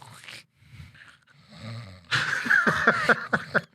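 A voice mimics raspy, rattling snoring with a purring quality, a few rough rhythmic pulses following quieter breathy sounds.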